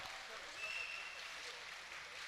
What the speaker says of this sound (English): Good applause she's got here as well